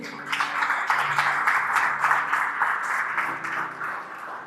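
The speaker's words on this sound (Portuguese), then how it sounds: "dá um forte aplauso ao Senhor Jesus" A church congregation applauds for Jesus during a service, with sustained, dense clapping from many hands that fills the room evenly and tapers slightly at the end.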